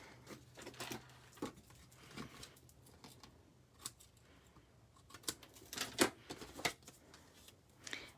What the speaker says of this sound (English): Let me just pull this tape off.